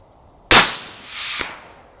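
A Mauser 25 straight-pull hunting rifle in .308 firing a single loud sharp shot outdoors, followed by a rolling echo and a faint distant impact about a second later.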